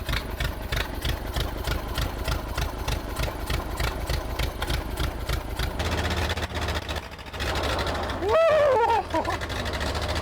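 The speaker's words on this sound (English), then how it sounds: "pull the choke, step on the starter, it'll crank a little bit, should fire right off" A Ford Model A, left in the woods for decades, cranks over with a rapid rhythmic chug, then catches and settles into a rough, loud idle, with a brief surge of mechanical noise near the end.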